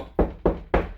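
Knocks on a wall directly over a stud give a firmer, sharper tap, three quick close raps in even rhythm, alone and clear.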